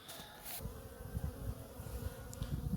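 Honeybees fly around their hives on a cleansing flight in mid-February, producing a steady, close buzzing drone with faint passing whines above it.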